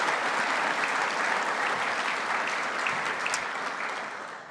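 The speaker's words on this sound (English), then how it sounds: "I'd like to give all those people a round of applause," A conference audience gives a sustained round of applause, dense and steady throughout and tapering slightly at the end, with no talk over it.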